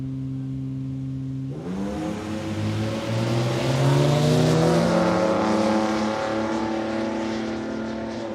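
A Ford BA Falcon and other drag racing cars at a raceway, engines idling steadily then roaring louder as they accelerate off the line, a sustained loud mechanical drone with rising harmonics and no talking.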